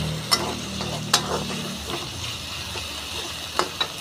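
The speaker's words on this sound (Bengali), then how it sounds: "এখন এটা লো স্টিমে একদম ফ্রাই করতে হবে, একদম লো স্টিম" Ingredients fry on low heat in a wok while a spatula stirs them, giving a soft sizzle broken by several sharp metal scrapes and clinks, with a quieter hiss between strokes and no talk.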